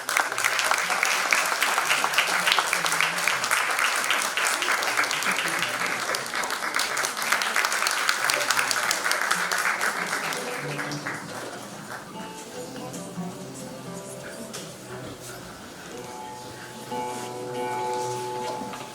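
Audience applause welcoming a singer onto a stage at a live concert, loud sustained clapping from a crowd that thins and softens partway through, continuing lighter toward the end.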